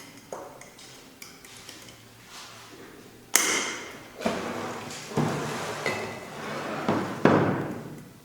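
A pinch of dried herbs is pounded in a mortar, giving a series of separate, close, hard knocks and thuds spaced a second or so apart after a quieter start, with no voices.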